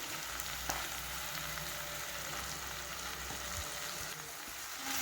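Onions sauté in hot oil with turmeric, coriander and chilli powder, giving a steady, even sizzle with faint stirring scrapes throughout, close and continuous.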